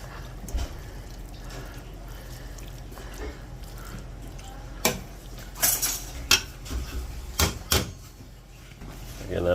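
A ladle or spoon scrapes and clanks against a metal cooking pot while lechon paksiw is stirred, with scattered sharp clinks over a low kitchen hum and people talking.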